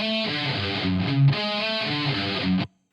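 Crunchy distorted electric guitar chords ring out with a smoothed, rounded top end, then cut off abruptly near the end.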